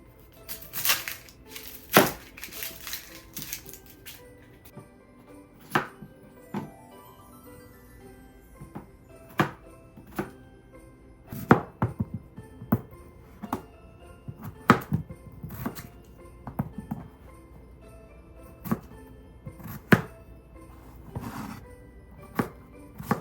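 Knife chopping half an onion on a cutting board for potato and cheese soup, sparse irregular taps spread out over the clip, fairly quiet and close, with no talking.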